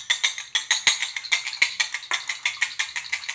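A loud electric whisk from a kitchen gadget rattles and clatters against its bowl in quick repeated bursts, each beat sharp and close, with no voices over it.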